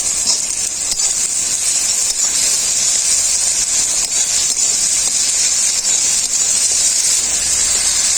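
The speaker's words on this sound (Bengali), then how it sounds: "আদা রসুন খুব ভালোভাবে ভাজা হয়ে গেছে" Ginger-garlic paste fries in a pan with onions and tomato, giving a loud, steady sizzling hiss that runs unbroken throughout.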